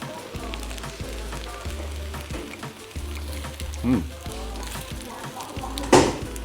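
North Korean bibimbap sizzling in a stone pot, a steady frying hiss close by with faint clinks and background room noise.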